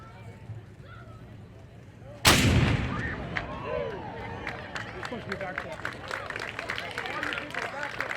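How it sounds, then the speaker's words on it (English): A single loud cannon blast booms suddenly at a Fourth of July ceremony, followed by a long rumbling echo and scattered crowd noise and clapping. "Cannon fire, number 2."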